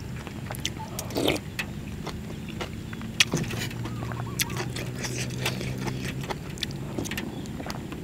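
Rain patters steadily outdoors while a Thai noodle soup with kale and minced pork is being cooked, a dense continuous wash of drops with scattered sharper taps throughout.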